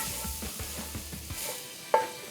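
Onions sizzle faintly in a skillet on a Weber kettle grill while a utensil scrapes and stirs in a few soft strokes, ending with a sharper clack.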